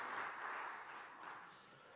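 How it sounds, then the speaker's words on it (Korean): A congregation applauding at a Korean Sunday church service, a soft, distant wash of clapping that fades slightly over two seconds, with no speech over it. "감사하며 박수로 영광 돌리겠습니다"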